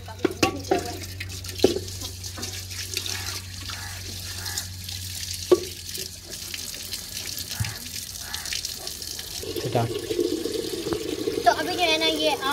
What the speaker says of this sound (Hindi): इन्हें ना ठंडे पानी में जो है ना जल्दी ठंडा कर लें धो के अच्छी तरह से